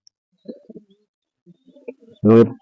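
Maddas pigeons give soft, low coos in scattered bursts, followed by a louder, sharper call that ends the sequence.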